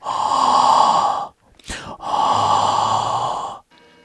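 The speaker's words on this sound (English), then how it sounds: "I do like the breathing. It makes it seem very creepy." Heavy, creepy breathing from a film scene is heard as two long, loud, raspy breaths, one in and one out, broken by a short whooshing gap, and a faint tone lingers at the end.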